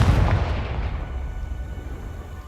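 Confringo fire spell cast in the Hogwarts Legacy video game, a loud booming blast that swells at once and then rumbles away steadily, with no voices over it.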